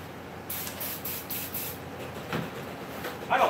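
Carburetor cleaner sprays from an aerosol can in a cluttered shop, coming in several short hissing bursts followed by a longer continuous spray, close and fairly loud with no talking.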